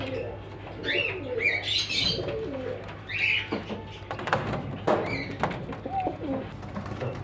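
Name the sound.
Black Sirazi pigeons cooing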